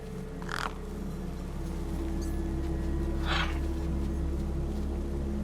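Crows in the Beyond A Steel Sky game cawing over a corpse, two or three harsh caws spaced apart over a low constant ambient hum, with no voices.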